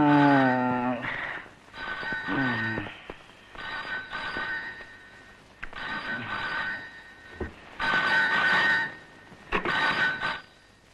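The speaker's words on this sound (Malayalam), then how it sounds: "ഫോൺ" A telephone in a home scene from an old Malayalam film rings in repeated bright trilling bursts, about five across the stretch. Voices come in between the rings and partly overlap them.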